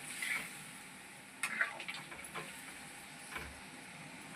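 Prawn and cauliflower curry bubbling in a pan, a faint, close simmering sizzle with occasional small pops and light clicks, no talk.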